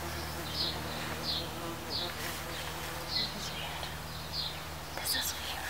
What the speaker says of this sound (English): Hopefully I don't get stung by a bee.